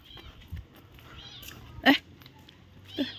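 A cat gives a few short meows, one clearer and louder than the others, amid quiet background voices in a village setting during Lebaran.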